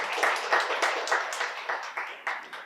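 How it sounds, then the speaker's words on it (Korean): An audience at a Korean social services exchange event gives brief applause. The rhythmic claps are moderately loud and fade over a few seconds. "큰 박수 부탁드리겠습니다"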